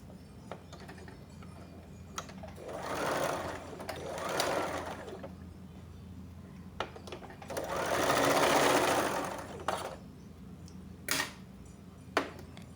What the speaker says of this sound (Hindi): पर मैं इस पे सिलाई ही लगा रही हूँ